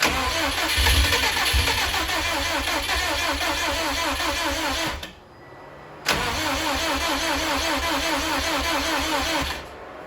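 A freshly assembled 2007 Subaru STI's engine fires up and runs with a loud, close, rough idle, briefly cuts out, then restarts and idles again before dropping away near the end; no talking.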